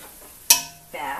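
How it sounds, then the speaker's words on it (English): Chopped onion and garlic drop into a pan with rinsed beans for chili, giving a sudden bright crackling sizzle that fades, then a softer steady frying hiss resumes. "Going to add our onion and garlic"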